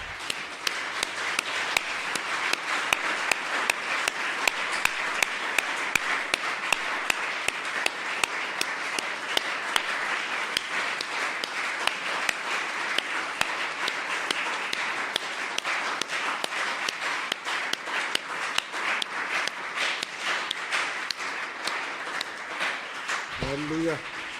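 A church congregation applauding steadily for over twenty seconds, with dense rhythmic clapping filling the room and voices mixed in throughout.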